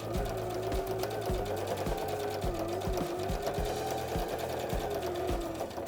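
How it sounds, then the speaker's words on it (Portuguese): A sewing machine stitches steadily around the edge of a small fabric tissue holder, its needle chattering in a fast, even rhythm with brief pauses and restarts, close and alone. "agora eu posso vir na outra direção costurando"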